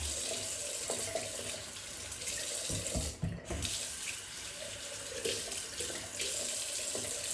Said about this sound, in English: Quick rinse, get rid of the soap of that.